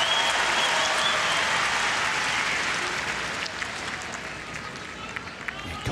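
A large tennis crowd at a 2018 US Open match between John Isner and Milos Raonic applauds in a dense, sustained roar of clapping that gradually thins and fades, with commentary voices faintly underneath.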